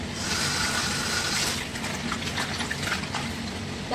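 Running water rinses dried black fungus mushrooms, a steady loud gush that eases slightly partway through, with no voices over it.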